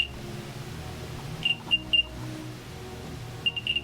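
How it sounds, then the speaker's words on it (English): AirPods playing their Find My iPhone locating sound, short high chirping beeps in small clusters of two to four, clear and moderately loud over a faint low background hum. "That's the sound they make when you're looking for them with Find My iPhone."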